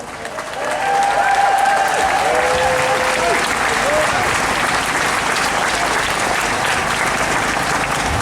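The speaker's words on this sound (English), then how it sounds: "big round of applause" Loud, sustained applause from an audience at a Stand Up to Racism rally, steady clapping filling the space for several seconds.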